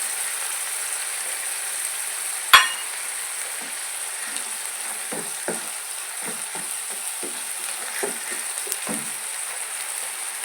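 Capsicum for palak paneer frying in a pan, a steady soft sizzle with a sharp clink near the start and scattered light scraping and stirring taps later, no voices.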